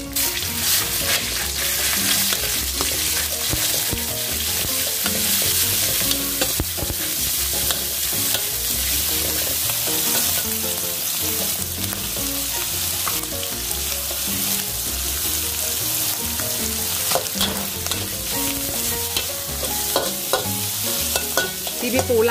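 Cabbage is stir-fried with sausage and minced pork in a loud, steady sizzle, with continual scraping and tossing from stirring heard close up and no talking.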